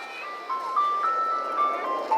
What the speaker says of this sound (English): Ice cream truck is here, y'all.